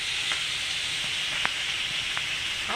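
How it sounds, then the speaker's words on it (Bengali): Pumpkin and pui shak frying in a pan, a loud continuous sizzle with a few sharp pops and crackles through it, close up and with no talking. "কি সুন্দর করে ফ্রাই হয়ে গেছে।"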